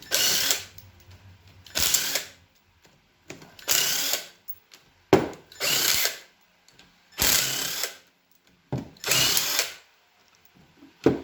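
A power tool on a C5 Corvette differential cover spins out bolts in six loud, separate bursts, each lasting about a second, with quiet gaps between them.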